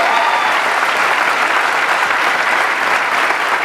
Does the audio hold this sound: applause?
yes